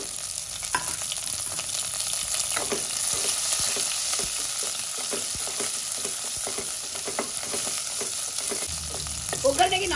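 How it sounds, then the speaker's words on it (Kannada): Cumin, curry leaves, dried red chilies, country garlic and country onion sizzle steadily in hot oil for a tempering, with a dense continuous frying hiss and occasional scraping stirs throughout, no voices. "ಒಗ್ಗರಣೆಗೆ ನಾಟಿ ಬೆಳ್ಳುಳ್ಳಿ ನಾಟಿ ಈರುಳ್ಳಿ ಹಾಕೋದ್ರಿಂದ ತಿಳಿಸಾರು ಒಳ್ಳೆಯದಾಗುತ್ತೆ"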